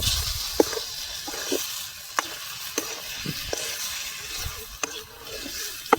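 Jackfruit and cheese are stirred in a sizzling frying pan, with a constant hiss of frying broken by about a dozen scraping spoon strokes at an uneven rhythm, close and fairly loud.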